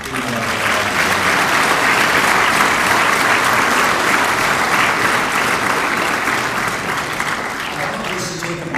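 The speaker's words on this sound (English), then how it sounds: "I think that you deserve a big round of applause" A graduation audience gives a big, loud round of applause, with dense continuous clapping that stays strong throughout and eases off only slightly at the close.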